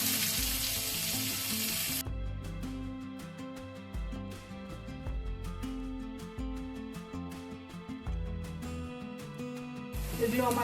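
Chopped onion, ginger, capsicum and green chili frying in a pan, a soft sizzle that swells at the start and end. Tonal music plays underneath and a voice speaks briefly.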